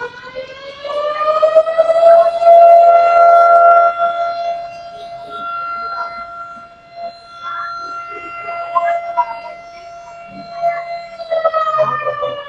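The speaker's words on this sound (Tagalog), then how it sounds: "narinig niyo yung sirena, nagulat din ako" A loud wailing civil defense siren rises and falls in long, sustained tones, with faint voices and background noise mixed in beneath it.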